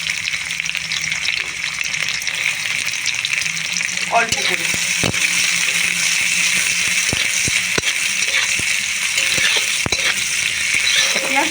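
Chopped onion frying in oil in a pan after dried red chillies, a steady close sizzle with occasional stirring clatter, continuous throughout; a brief spoken word is heard over it.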